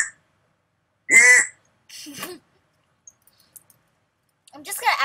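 Someone imitates a duck with a short, loud nasal quack, followed by a softer second quack and some clicks, then a burst of speech.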